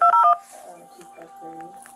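A telephone keypad sends a quick burst of three or four bright DTMF beeps while entering a client ID on a language-interpreter phone line, loud and close, after which a quieter recorded voice speaks.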